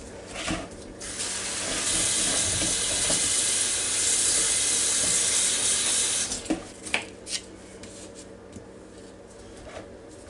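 Tap water runs in a steady loud hiss as strawberries are washed in a kitchen sink. After about six seconds the flow stops, leaving a few light clinks and knocks.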